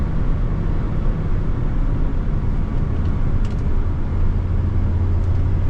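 A 2008 Chevy 3500 Duramax truck drives at road speed with a steady, loud engine and tire drone, a low hum rising near the end as the brakes are applied.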